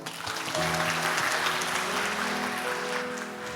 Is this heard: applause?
yes